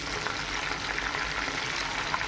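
Pieces of crispy KFC-style fried chicken sizzle steadily in hot oil while being turned to cook the other side, a dense, continuous frying hiss with no voices.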